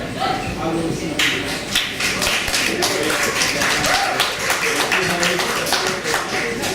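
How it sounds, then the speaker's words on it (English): An audience claps and cheers for a young poet at a poetry reading night, a dense, steady burst of applause lasting throughout. "give a big round of applause to the young punk"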